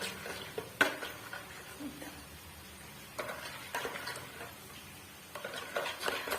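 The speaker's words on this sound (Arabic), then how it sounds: "مغرف صغيره تاع الملح، نزيدو نخلطو مليح" A spoon scrapes and clinks in a bowl of homemade lemonade mixture with salt, with faint irregular stirring knocks and several sharper taps at intervals, quiet and close.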